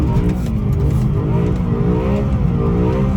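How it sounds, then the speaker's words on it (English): An S65 V8-swapped BMW 1M Coupe accelerates in first gear, its engine note climbing in a loud, continuous rising drone heard from inside the car, with no talking. "I'm gonna have to shift back into first gear now for this one here"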